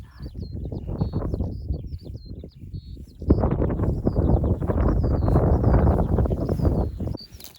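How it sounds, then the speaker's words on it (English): Birds chirp and call in short high bursts over steady wind rumble, with a louder gust of wind noise in the second half. "You can hear the birds"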